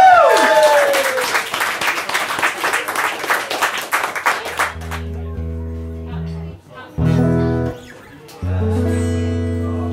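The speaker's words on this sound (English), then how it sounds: "another massive round of applause" Applause at an open mic night in a pub, loud sharp clapping for about four seconds that fades out, followed by someone speaking over the room.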